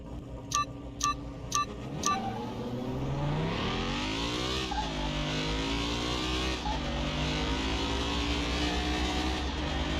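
A Lotus Esprit idling in Car Mechanic Simulator 2021, a steady low engine drone with wavering revs. A few short electronic beeps come at the start, and there is no speech.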